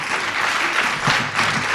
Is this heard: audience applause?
yes